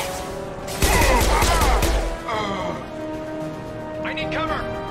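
Rapid burst of gunfire from a firefight in Mass Effect 2, loud and dense for about a second, followed by a softer crackle and game effects under speech.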